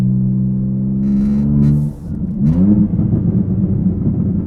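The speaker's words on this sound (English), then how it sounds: "the downshifts in this thing are brutal with the exhaust, not having an exhaust, just having the downpipes" A BMW G87 M2 with open downpipes and no exhaust holds a steady, loud engine drone, then after a brief dip blips sharply into a rough, crackling downshift roar that stays close and heavy to the end.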